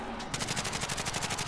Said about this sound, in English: Somebody sniping.